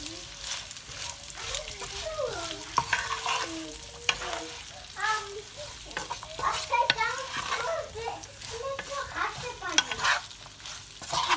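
Beef stir-fries in a hot pan for a Thai beef with chilli and basil dish, a continuous sizzle broken by irregular scraping and clinking as the meat is stirred, with a voice faintly present at times.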